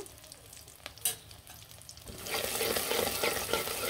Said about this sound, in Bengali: সরষের তেল দিয়ে রান্না করব, পেঁয়াজ কুচি কুচি করে দিয়ে দিলাম।